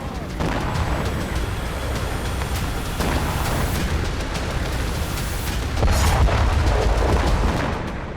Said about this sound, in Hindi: बैरूत के अलग अलग हिस्सों में कई धमाके देखे गए।